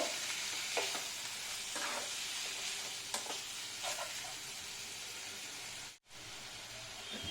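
Ground coriander and cumin masala being stirred in a hot pan for chicken khichuri, a steady sizzling hiss with soft scraping strokes throughout and a brief drop near the end.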